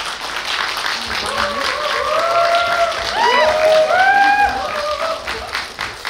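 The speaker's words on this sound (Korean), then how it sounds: "큰 박수로 맞아주세요" Audience applause greets guests taking the stage at a film premiere screening in a Lotte Cinema theater, steady broadband clapping throughout with people talking over it.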